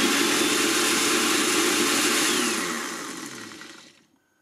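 An AICOK kitchen blender's motor whirs loudly and steadily at full speed for a few seconds, then winds down and fades to silence, with no talking.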